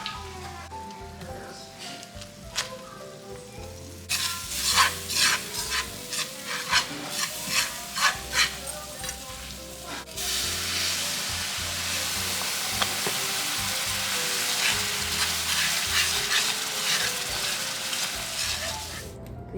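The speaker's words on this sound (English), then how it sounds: "And then you're gonna add your flour to the pan" Flour and butter are stirred in a pan with a scraping, clattering rhythm, then settle into a steady crackling sizzle, close and fairly quiet, with no voices.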